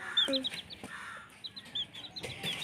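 Close chicken clucking and chirping in short, scattered bursts, with soft background rustle, from chicks hatched by a duck.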